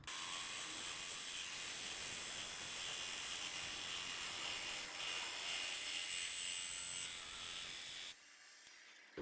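A bandsaw cuts through dresser wood with a loud, steady, close buzzing whine that holds for about eight seconds, then cuts off into a quiet room.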